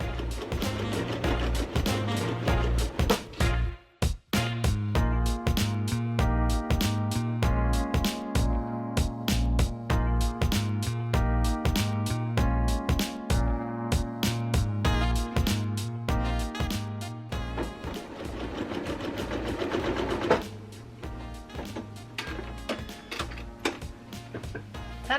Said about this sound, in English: So then I can chain piece and sew all the strips together at once.